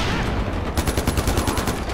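Rapid automatic gunfire from the video game Far Cry 4, a loud close burst of regular repeating shots lasting over a second, with no talking.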